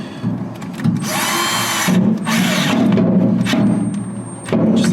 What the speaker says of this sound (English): And then we can tighten up that hose clamp.